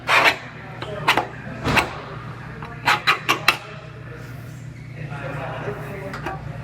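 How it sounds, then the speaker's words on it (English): A scribe scratching a cut line along an overlapping car quarter panel, a series of short, sharp metallic scrapes in quick bursts, close and clear, with someone talking between them. "I'm gonna go ahead and I'm gonna scribe my cut line."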